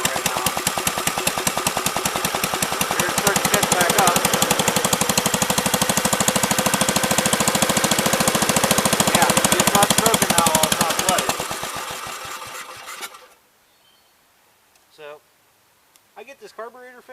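A flooded 1984 Gravely 5665 tractor engine catches and runs loud and rough with a fast, hammering knock for about twelve seconds, then cuts out abruptly into near silence broken by a few faint sounds.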